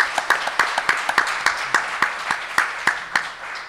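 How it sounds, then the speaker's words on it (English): Audience applause closing a conference session on waste and recycling risk, with steady clapping from a room of people that rises and fades over a few seconds, no talking. "let's give Ron, David, and Ryan a great round of applause for a fantastic session"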